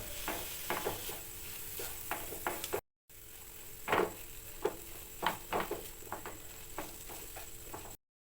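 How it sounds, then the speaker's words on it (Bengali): Spoon stirring boiled potato and carrot filling in a pan for a sandwich, with repeated soft scraping taps at an uneven rhythm over a faint low sizzle, close and moderately quiet, with a brief silent gap midway. "আলুর সাথে গাজরটা ভালো করে মিক্সড করে নেব।"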